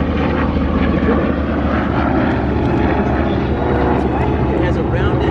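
A TBM Avenger torpedo bomber, built by General Motors with a round radial engine, drones steadily and loudly overhead at a 2024 beach warbird airshow, while a voice narrates over it throughout.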